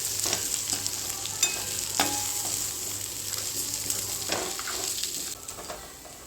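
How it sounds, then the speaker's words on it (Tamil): Pirandai (adamant creeper) and curry leaves sauté with lentils in a pan for chutney, a close steady sizzle with a few scraping stirs and light crackles, easing off near the end. "பிரண்டை, கருவேப்பிலை இது எல்லாத்தையும் ஒன்று செஞ்சு எல்லாத்தையும் ஒரு நிமிஷம் வதக்கி எடுத்துக்கலாம்"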